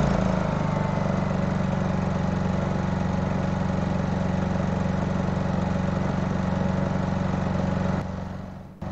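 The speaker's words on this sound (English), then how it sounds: "So the prompt is telling me to start the generator." A Honda EU220i portable generator runs close by with a steady, loud engine drone and even low hum, then cuts out sharply near the end.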